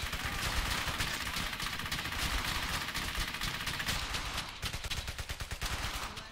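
Machine gun fire in the World War II video game Brothers in Arms, a loud sustained barrage of rapid shots that runs the whole time and breaks into distinct rhythmic bursts toward the end.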